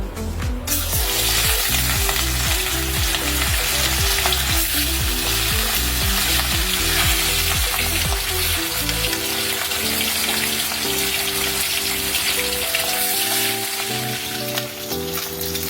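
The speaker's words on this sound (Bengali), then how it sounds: "এইভাবে মাছগুলো ভেজে নিলাম" Katla fish pieces frying in hot oil in a wok, a steady loud sizzle throughout with a regular clattering rhythm in the first half that gives way to continuous bubbling crackle.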